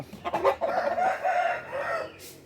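A breeding rooster crows once, loud and close, in a single drawn-out call that trails off, with no talking around it.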